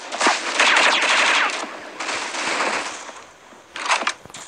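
An AUG assault rifle fires in a video game, with sustained rapid automatic bursts that come loud and close, a short lull, then another burst.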